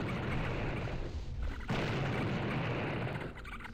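Explosions in Blood, a first-person shooter, on level E1M5 Hallowed Grounds: a loud, sustained roaring blast with a brief drop in the middle before another burst rolls on.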